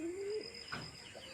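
A pigeon gives a faint, short coo close by, a soft low call lasting under half a second, followed by quieter bird sounds against a low background hum.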